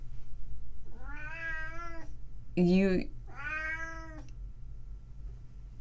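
A cat gives three drawn-out meows in a row, the middle one sharper and louder, heard close over a low background hum, with a brief spoken word alongside.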